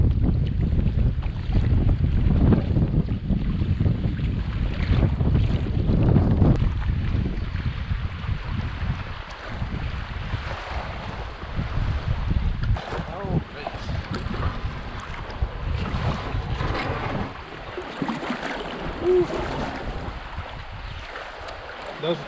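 A canoe paddled on the French River along the old voyageur channel, with continuous wind rumble and water wash loud against the microphone, easing somewhat after the first few seconds and ending in a steadier, lighter wash.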